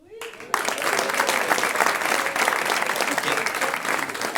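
An audience claps in a comedy show hall in Liège, breaking out suddenly after a short pause and holding a dense, loud roar of applause to the end.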